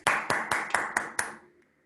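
A few hands clapping after an online mathematics lecture, six or so distinct, evenly spaced claps up close, then quickly fading to quiet.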